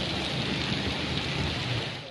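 Heavy stormy rain falling across Punjab farmland, a dense, steady hiss of downpour with a low rumble underneath, continuous and loud throughout with no voices.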